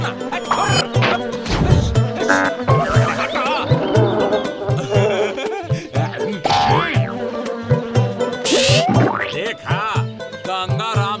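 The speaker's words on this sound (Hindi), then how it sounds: "अरे मक्खी, हमारा दूध से दूर रहो। जाने कहाँ से आ जाती है जिद्दी मक्खी साहब।" A housefly buzzes around milk in a Chhota Bheem cartoon, amid busy cartoon sound effects with boings, whacks and crashes layered over a dense, loud mix.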